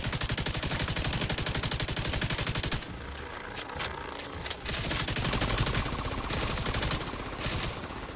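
Rapid automatic gunfire from a video game firefight against enemies, loud and close, rattling in a steady fast stream for about three seconds, then breaking into shorter bursts over a busy background of game effects.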